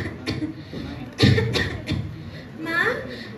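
A young girl in a staged drama performance coughs in several short, sharp bursts, with voices and a brief laugh-like sound around them.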